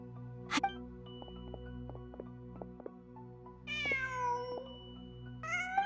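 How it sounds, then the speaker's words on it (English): A cat meows in the Genshin Impact video game, two clear, drawn-out meows toward the end over a quiet ambient hum and soft clicks. "Just a cat."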